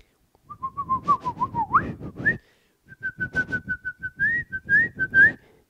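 A person whistles a wavering tune in two phrases separated by a short pause, close and clear, with soft rhythmic tapping underneath.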